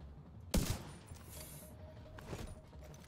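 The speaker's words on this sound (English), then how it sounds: "I'm shooting at bad guys." Gunfire in the video game The Division: a sharp, loud burst of shots near the start, then a fainter rattle and smaller pops trailing off over the next couple of seconds, with no talk.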